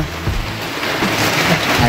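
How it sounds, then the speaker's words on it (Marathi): Heavy rain pours down in a steady, dense roar, loud and close, with no pauses. "लय पाऊस वाढला आता."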